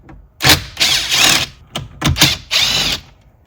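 A power driver backs screws out of a Ford F150 radio dash, with several loud, close whirring bursts separated by short pauses.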